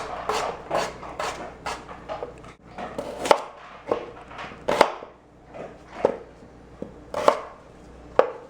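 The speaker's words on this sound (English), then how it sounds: "The goal here is going to be to cut them in what's going to appear to be bite-sized pieces." A knife chops ingredients into thin, bite-sized pieces for Zuppa Toscana soup, with sharp, close, evenly spaced blade knocks on a cutting board, about a dozen strokes with short pauses between.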